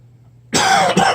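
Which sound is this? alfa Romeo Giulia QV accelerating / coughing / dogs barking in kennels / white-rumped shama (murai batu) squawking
coughing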